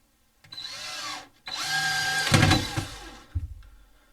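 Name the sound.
power drill screwing a stereo mount in place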